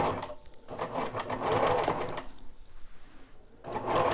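Electric sewing machine stitching fabric nearby, running in rapid rhythmic bursts with a brief pause before starting up again.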